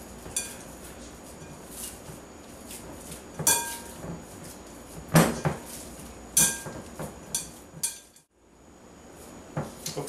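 Ground meat for Salisbury steak being mixed in a bowl, irregular close knocks and clinks of utensil against the dish, a few sharp louder hits among softer scraping, with a brief silent gap near the end.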